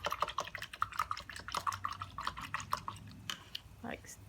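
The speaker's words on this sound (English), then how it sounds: "I'll wash out my brush." A paintbrush is rinsed and swished in a water cup during an arts-and-crafts session, giving quick splashy drips and taps, with a voice talking faintly underneath.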